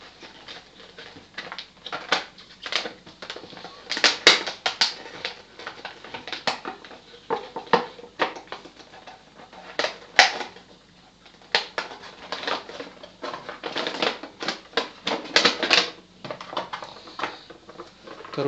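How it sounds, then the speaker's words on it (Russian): A parcel from China being opened by hand, with scattered crinkling, tearing and rustling of packaging in irregular bursts, close and moderately loud, with no talking. "Будем открывать и смотреть, что же там внутри."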